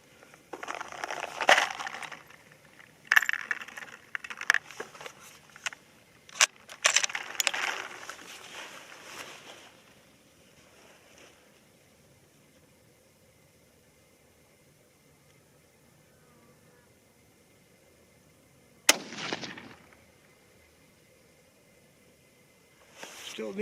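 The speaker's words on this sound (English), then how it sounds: "I'll go ahead and shoot a 3-shot group" Three rifle shots from a .22-250 Rem or .22 ARC fired as a group at a range, sharp loud reports spaced a couple of seconds apart early on, followed by quiet and a later isolated blast.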